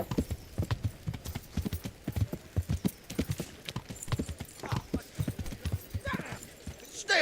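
Horse hooves clip-clopping steadily on hard ground in a video game, a quick, even rhythm of close hoof strikes continuing throughout, with a brief whinny-like sound near the end.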